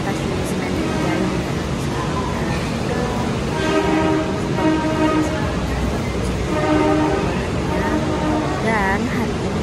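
A train horn sounds repeatedly in the busy Senen railway station, Jakarta, with steady rumbling and crowd noise and people talking nearby.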